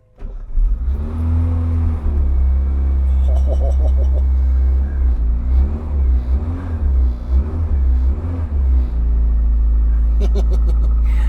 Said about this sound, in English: I love the turbocharger on this thing